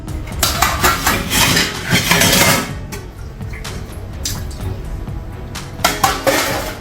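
Used dishes, pots and utensils clink and clatter steadily in a kitchen while a dishwasher is loaded, with busy knocks and scrapes throughout and no talking.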